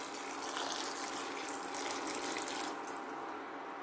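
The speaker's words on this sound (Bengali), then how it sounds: "আর একটু গরম জল দিয়ে দিলাম।" Hot water pours steadily into a cooking pot of snake gourd with moong dal, giving a continuous close, gushing wash of water that runs unbroken with no talk.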